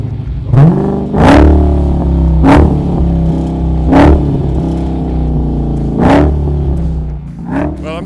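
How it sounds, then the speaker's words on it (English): A Dodge Challenger SRT Hellcat Redeye Widebody with its 807-horsepower supercharged engine, right-hand drive, blips its throttle in about six loud, sharp revs, each rising then falling back to a deep idle rumble, close by. "this will hopefully give you a sense of what you actually hear and feel when you hear the 807 horsepower kick up."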